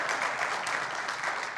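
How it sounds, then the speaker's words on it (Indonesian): Sustained applause from a church congregation during a worship service, a dense steady wash of clapping with no breaks. "Berikan tepuk tangan buat Tuhan Yesus"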